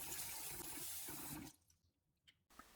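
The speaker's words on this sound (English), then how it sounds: "Then we'll need to wash the rice." Sweet rice and jasmine rice being washed in a bowl: loud, steady sloshing and running water for about a second and a half, then quieter drips and small splashes.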